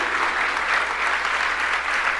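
Church congregation applauding during a Spanish-language Sunday service, dense and loud clapping from a full room that stays constant from start to finish.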